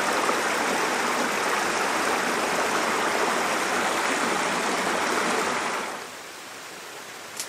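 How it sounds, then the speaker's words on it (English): Rushing water from a waterfall pours steadily at close range, a dense even roar that drops abruptly to a quieter distant wash near the end. "I'll show you the waterfall below"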